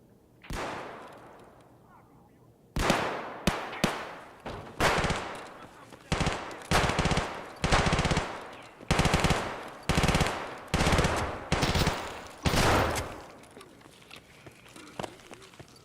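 Automatic gunfire in a shooter video game comes in repeated loud bursts at a steady rhythm, each burst sharp and close, after a quieter opening with a single shot.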